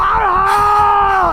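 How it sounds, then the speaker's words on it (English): A sustained, harmonic-rich scream used as a horror story sound effect, loud and steady with a slight pitch drop at the end, heard alone with no speech. "she heard blood-curdling screams coming from downstairs"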